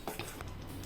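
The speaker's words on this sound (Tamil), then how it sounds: "எல்லாத்தையும் சேர்த்து நல்லா கலந்து விட்டு ஒரு 10 நிமிஷம் போல் கொதிக்க விடலாம்" A spoon stirs a pot of drumstick leaf (murungai keerai) kadaiyal, giving brief scraping and sloshing strokes over a quiet simmer.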